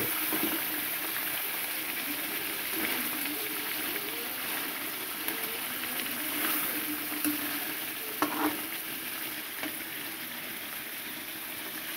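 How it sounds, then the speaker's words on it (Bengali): Crab fries in a pan on a gas stove with a continuous, even sizzle and occasional stirring scrapes, close and steady throughout with no talking. "আমরা এখন গ্যাসে রান্না করছি"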